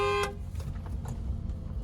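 A car horn gives one short toot at the start, then the car's low engine hum carries on inside the cabin while driving slowly down a narrow lane.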